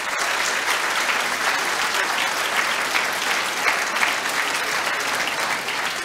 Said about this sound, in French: Effectivement, on peut l'applaudir.